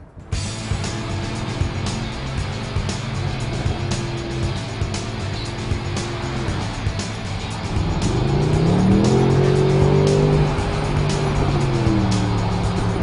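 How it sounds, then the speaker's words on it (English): A Mercedes SLS AMG Roadster convertible accelerates in Sports Plus or manual mode, its exhaust droning steadily and then swelling into a louder rising roar with climbing engine tones, close and with no talk. "you can certainly hear that exhaust system a lot better in the convertible than you can in the gull wing"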